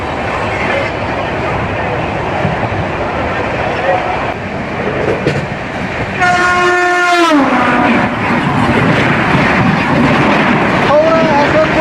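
The Dhauli Express runs at speed with a constant loud roar of wheels on track, and midway a passing ICF train blasts a long horn whose pitch sweeps downward as it goes by, followed by a short horn later.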